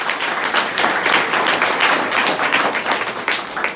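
An audience claps warmly at a Saint-Pierre feast thank-you gathering, dense steady applause with scattered sharper claps throughout, fairly close and without talk.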